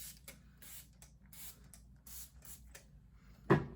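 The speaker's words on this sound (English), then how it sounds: "I'm just gonna kind of spray it all over." Several short hissing bursts from a spray bottle of sea salt texture spray misted over hair in quick succession, close by, followed by a louder handling thump at the end.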